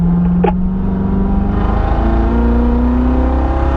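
A car on a track accelerates smoothly out of a left-hand corner, engine droning loud and close with a rising, steadily building pitch, with no talk over it.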